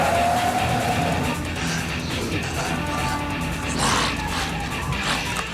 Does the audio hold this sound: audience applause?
no